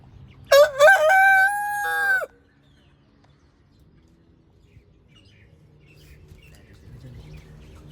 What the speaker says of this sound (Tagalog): Manok natin mga kabinyo.